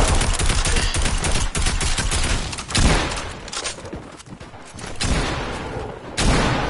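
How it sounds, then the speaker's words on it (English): Dense, rapid bursts of gunfire in a team rumble video game match, loud and continuous, with automatic fire crackling over booms and brief lulls. "I just see a bunch of gunshots"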